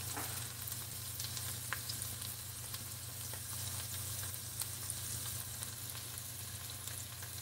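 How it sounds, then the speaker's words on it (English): Butter melting and sizzling with onion in a pan, a quiet, continuous crackling fry with steady hiss and occasional small pops, close and without talk. "Now the butter is melting."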